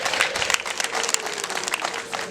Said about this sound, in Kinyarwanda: nimumwongera amashyi menshi cyane